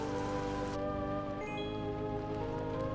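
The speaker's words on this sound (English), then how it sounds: "we don't have the rain pouring down on the roof" Steady rain hisses on a roof in Michigan: Report from Hell under a sustained tonal background, and the downpour softens partway through as the scene moves inside.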